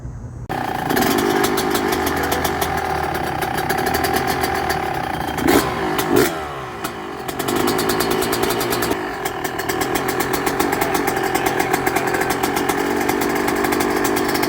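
Two-stroke 125cc motorcycle engines revving nearby, a loud buzzing drone that rises and falls with sharp throttle blips, continuous for the whole stretch.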